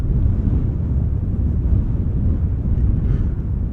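Wind buffeting the microphone outdoors at Amsterdam Schiphol Airport, a loud, steady low rumble that fills the whole stretch with no other clear sound.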